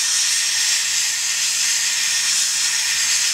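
Airbrush spraying paint onto a model Imperial Fists Land Raider tank, a steady, close, continuous airy hiss with no break and no voices.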